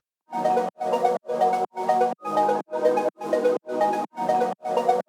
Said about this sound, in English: I chopped all that up, brought it down here into the beat, and it sounds like this.